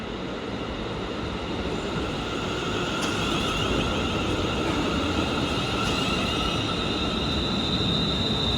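A Scotrail class 380 passenger unit on the 0902 Largs to Glasgow Central service pulls into a station platform, a loud, steady rumble of wheels on rail with squealing flange tones and brake hiss throughout, no voices.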